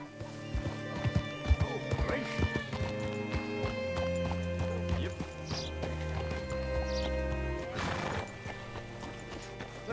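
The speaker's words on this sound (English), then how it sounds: "Hitch your horse up here." A horse being hitched up at a hitching spot, its hooves clip-clopping close by and a whinny breaking out, over a steady tonal background.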